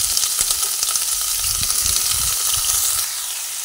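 Pieces of kakrol (spiny gourd) frying in hot oil, a dense close sizzle with bubbling crackle throughout, easing slightly toward the end, without speech.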